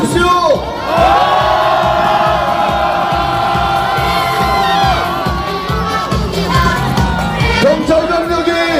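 A massive crowd of protesters at an impeachment rally outside the National Assembly in Yeouido, Seoul, roars, cheers and chants in unison, loud and close, with overlapping shouting voices swelling in waves throughout.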